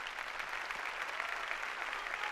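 A church congregation claps together in a dense, continuous burst of applause during a Sunday sermon. The clapping is loud and steady, with no talk over it.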